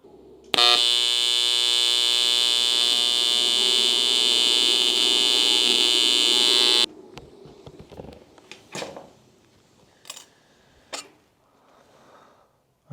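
A Yeswelder 200P TIG welder running a bead along the edge of an aluminum duck boat, giving a loud, steady electric buzz with a strong harmonic hum that holds for about six seconds, then cuts off to quiet clicks and small handling noises.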